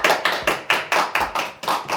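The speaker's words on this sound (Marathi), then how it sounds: "टाळ्या टाळ्या." Hands clap in an even rhythm, about eight sharp, loud claps spaced roughly a quarter second apart, close and alone with no voices.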